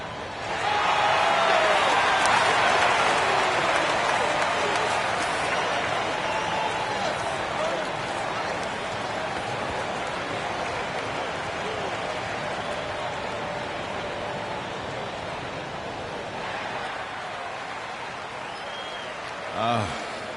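In NBA 2K25, an arena crowd applauds and cheers loudly in a steady roar that slowly fades over about twenty seconds, while a commentator talks over it.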